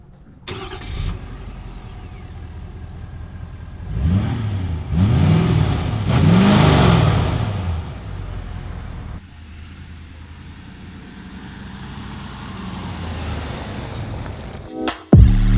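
A 2021 Ford Super Duty Tremor pickup truck cranks and fires up, then revs three times in quick rising surges. It settles into a steady, lower idle, recorded close and loud.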